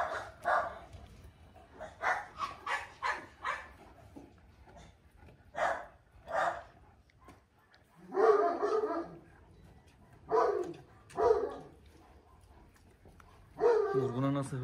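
A dog barks and yips in repeated short bursts, close and fairly loud, with a few whimpers and rougher growly barks later on, while people talk nearby.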